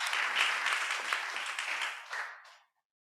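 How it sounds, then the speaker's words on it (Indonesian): A church congregation applauding in a service held at a Jakarta narcotics prison, a dense, steady round of clapping that holds for over two seconds, then tapers off and stops. "Berikan tepuk tangan."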